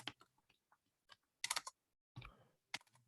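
Someone types on a computer keyboard in short irregular bursts of clicks and key taps separated by pauses, close and fairly quiet, with no talking.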